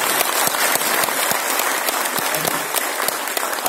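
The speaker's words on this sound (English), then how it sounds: "A round of applause, please." Loud, dense applause fills a room at a corporate event, with many hands clapping continuously and evenly throughout.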